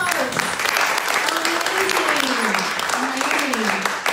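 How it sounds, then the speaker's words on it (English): A crowd at a Juneteenth event in Sydney, Australia, bursts into sustained, lively clapping close by, with voices calling and cheering over it throughout. "Can I get a round of applause?"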